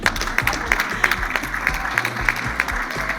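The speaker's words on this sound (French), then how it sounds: "Je voulais juste que vous applaudissiez un peu pour lui" Audience applause at a conference on African and Afro-descendant women in STEM at UNESCO, a steady patter of many hands with regular rhythmic accents over low background hum, moderately loud.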